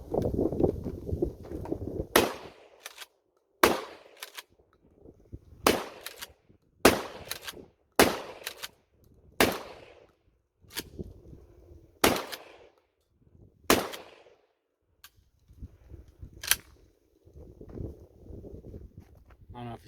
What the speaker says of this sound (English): let's fire a mag dump through it, 7+1 of just some super target loads